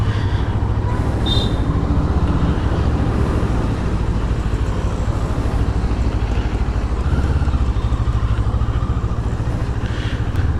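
A CF Moto 650 NK BS6 motorcycle pulls away in first gear on a test ride. Its engine gives a loud, close, continuous drone with a steady, low rumble throughout.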